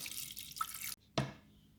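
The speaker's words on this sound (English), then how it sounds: "add the vinegar water" Vinegar water is poured over meat packed snugly in a container for German sauerbraten, a short splashing pour that cuts off, followed by a brief second splash and trickle, close by.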